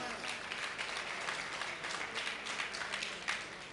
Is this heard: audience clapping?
yes